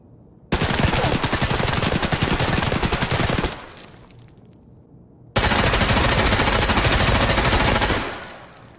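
Two long, loud bursts of rapid automatic fire from an M4 rifle in Escape from Tarkov's factory map, the first lasting about three seconds and the second about two and a half, separated by a brief lull.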